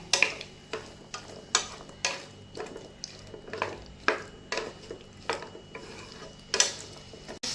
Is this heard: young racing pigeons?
no